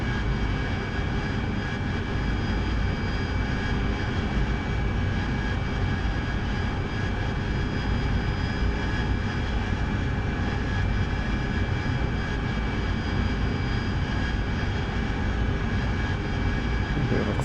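An aircraft engine in the DCS World flight simulator roars steadily as the plane comes in to land, a continuous loud, even jet-like drone with a constant whine and no variation throughout.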